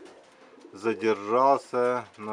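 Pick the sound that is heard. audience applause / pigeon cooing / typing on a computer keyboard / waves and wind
pigeon cooing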